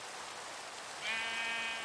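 A single short sheep bleat in a Minecraft Fabric modpack, a faint wavering cry rising over steady rain-like background noise.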